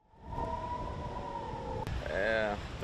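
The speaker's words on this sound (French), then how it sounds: "les alertes des sirènes n'arrêtent pas" Air raid warning siren in Israel during rocket fire, a steady distant wail holding one pitch before rising and swooping tones take over near the end, with a constant low rumble underneath.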